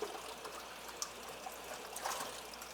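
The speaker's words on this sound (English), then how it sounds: "a little bit of water, and then usually gotta give it a little swirl just to get them out of there" Water trickles and splashes as it is poured into a leech tank and swirled around, a soft continuous dribble at close range with a brief slosh near the end.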